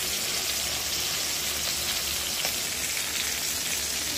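Hilsa fish frying lightly in oil in a pan, a steady dense sizzle and crackle filling the clip at moderate level, close by, with no voices.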